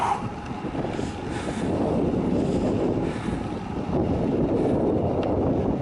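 Steady cold January wind buffets the microphone on a greenway in the Suisse Normande, France, in a continuous low roar, with no pauses throughout.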